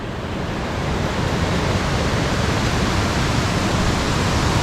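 A waterfall pours through a canyon near Skagway, Alaska, as a steady, loud broadband roar that holds unchanged throughout, with no voices over it.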